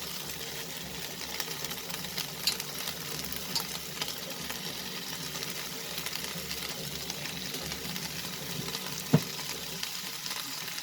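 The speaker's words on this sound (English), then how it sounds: "And now I'm going to add the remaining broccoli pieces." Broccoli pieces tossed into a chicken stir fry sizzle steadily in the hot pan, a continuous close frying hiss with occasional small pops and clinks, no voices.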